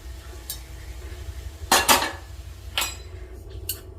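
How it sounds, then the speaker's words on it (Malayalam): A container of appam batter being covered with a lid, heard as a few distinct clinks and metallic knocks of lid against pot, close and fairly quiet against a soft background. "അപ്പോൾ നമുക്കിനി ഇത് മൂടി വയ്ക്കാം ഒരു രണ്ട് മണിക്കൂർ നേരത്തേക്ക്"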